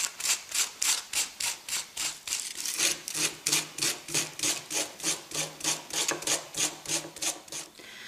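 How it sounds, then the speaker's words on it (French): Rhythmic rasping strokes as a nail file works the side edge of a handmade bracelet, taking off excess towel-like material; steady back-and-forth passes, close and clear, about two strokes per second with no talk. "venir donc tout simplement limer ici sur le côté et enlever donc l'excédent"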